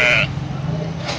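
Goat bleating in the Hago mobile game, one short, loud bleat at the start, then a soft low hum until a fainter sound rises at the end.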